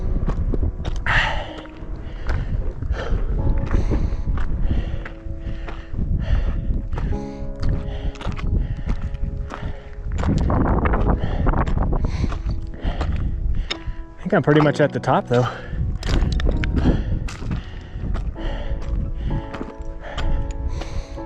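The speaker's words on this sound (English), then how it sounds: "Gosh, I can hear the wind coming over this right here." Strong gusts of wind sweep over a high mountain ridge near the summit of Leavitt Peak in the High Sierra, a loud, continuous roar and buffeting that swells and falls, with a hiker talking and exclaiming throughout.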